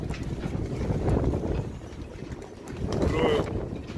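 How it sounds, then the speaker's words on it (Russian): Strong wind of around 50 knots buffets a sailing yacht, a dense low rushing roar that swells and eases over a few seconds, loud and close, with a voice speaking briefly. "Вот это ветрище. 50 узлов."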